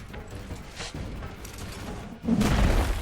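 A smash melee attack in XCOM: Chimera Squad lands as a heavy thud followed by a loud, dense burst of impact noise, with no talk over it.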